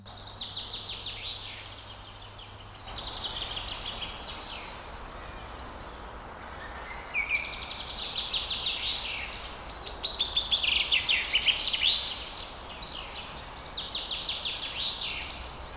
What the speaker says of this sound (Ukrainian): Це співають птахи, адже прийшла весна.